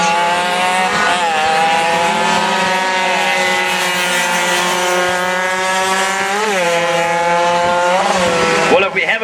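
Racing motorcycle pulling into the pits with a problem, its engine a loud, sustained high-pitched whine that holds steady, dips briefly and rises again, close by throughout.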